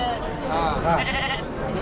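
Goats and sheep bleat at a large livestock market in Chakan, several wavering calls rising close over a dense background of crowd chatter.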